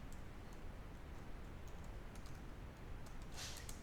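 Python code being typed on a computer keyboard: a steady run of light, quick key clicks at moderate distance, with no voices.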